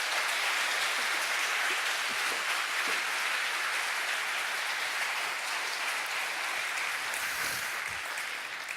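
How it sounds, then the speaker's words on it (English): Sustained applause from a conference keynote audience fills the room, a dense, steady wash of many hands clapping at an even level throughout, with no talk over it. "can we get one more round of applause for the organizers?"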